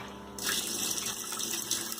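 Tap water gushes steadily into the drum of a Haier top load washing machine as it fills, starting abruptly and running as a continuous loud rush.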